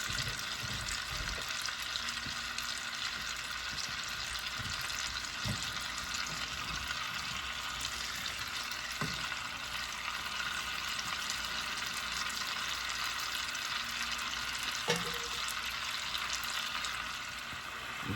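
T-bone steak frying in a pan, giving a steady, fairly quiet sizzle with faint crackles and a few small knocks throughout.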